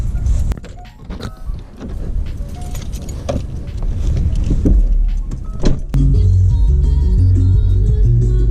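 A car heard from inside the cabin as it sets off, with a steady engine rumble building and settling into an even drone, some clicks and handling noises early on.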